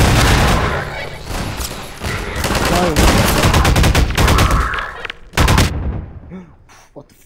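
Loud, rapid bursts of gunfire from Half-Life 2, dense volleys of shots hammering almost continuously, then breaking into a few separate blasts near the end as a voice speaks briefly over the shooting.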